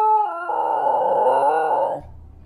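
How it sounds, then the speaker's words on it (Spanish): A Basenji dog gives its yodel-like, song-like call instead of a bark: one loud, close, wavering howl that rises and holds for about two seconds, then drops away abruptly. "El sonido que emite más que un ladrido suena como una especie de canto."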